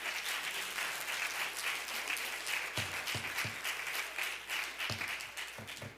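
Sustained applause from the audience at a planning and zoning board meeting, a dense wash of many hands clapping steadily for several seconds, with a few louder individual claps near the mic.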